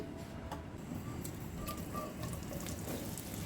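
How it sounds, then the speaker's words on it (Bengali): Cooking oil poured into a pan for restaurant-style cow tripe, a steady liquid pour with soft splashy texture running continuously at moderate level, no talking. "তেল ঢেলে দিচ্ছি"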